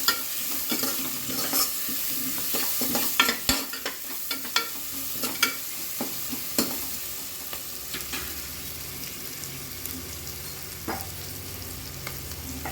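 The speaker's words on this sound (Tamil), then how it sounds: "அதுக்காக எண்ணெயிலே வத்தல் பொடி போட்டோம்." Red chili powder fries in oil for chicken biryani, a low steady sizzle with frequent scraping and tapping of a ladle against the pan, busier early and easing off later, no voices.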